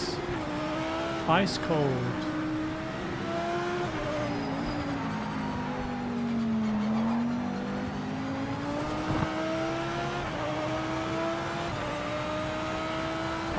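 Audi race car engine in Project Motor Racing, a sustained droning whine that rises and falls with gear changes and braking through the run, steady and fairly loud, with brief speech and other cars heard now and then.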